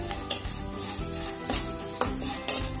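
Spices for chicken sukka fry in a pan, a steady sizzle broken every half second or so by the scrape and knock of a ladle stirring against the metal, close and clear.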